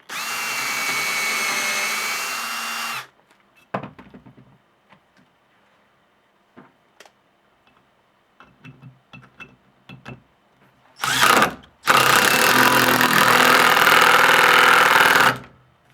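A power drill drives a Spax screw with a thread fillet into a wooden board, whirring loudly for about three seconds, then a pause with faint clicks and handling, a brief burst, and a longer loud run of the motor as the screw pulls tight.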